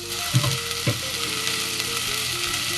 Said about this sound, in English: it's time to add your garlic and saute your carrots also